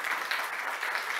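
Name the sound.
audience applause for speaker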